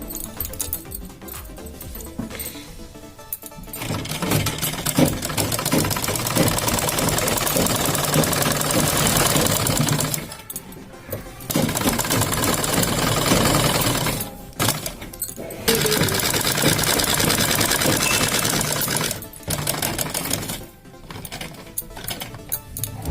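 A sewing machine runs in long, loud, steady stretches of dense mechanical whirring while stitching a kurti, stopping briefly several times between runs.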